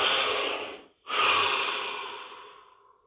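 A single deep exhale followed by a slow, audible inhalation, close and breathy, during a calm body-scanning relaxation session, with no talking.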